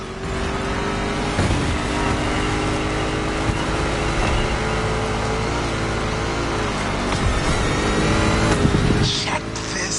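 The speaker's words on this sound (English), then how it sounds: "I got you yet another one of my Rally Raid prepped Mustang GTs." A Rally Raid-prepped Ford Mustang GT in the racing game The Crew Motorfest, its engine droning and revving loudly and steadily throughout with a surge near the end, with a voice talking over it.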